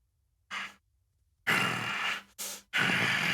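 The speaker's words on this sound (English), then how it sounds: "You hear as this breathing starts to grow louder and louder" A creature's heavy breathing sounds in close, raspy breaths: a short exhale, a pause, then a long breath, a brief catch and another long breath, each louder than the last.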